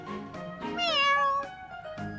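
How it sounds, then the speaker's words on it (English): A cat meows in the Fire Emblem Three Houses video game, a single drawn-out, rising and falling meow heard clearly on its own at moderate volume. "I never would have guessed a cat this big could sneak into our pantry."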